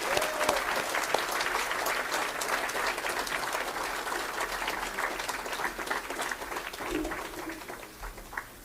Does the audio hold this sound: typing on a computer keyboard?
no